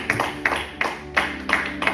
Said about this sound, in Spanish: dale un fuerte aplauso al Dios de los cielos